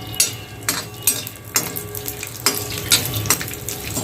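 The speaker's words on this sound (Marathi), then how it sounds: "छान असे शेंगदाणे आपल्याला तेलामध्ये फ्राय करून घ्यायचे आहेत" Peanuts fry in hot oil in a pan, a steady close sizzle with repeated scraping stirs and light clinks of a utensil against the pan.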